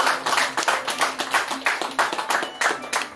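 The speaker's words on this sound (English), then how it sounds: "So let's give them a round of applause." A room full of people gives a sustained round of applause for a community steel pan movement's development committee, dense clapping rising and falling in waves for a few seconds with no one speaking over it.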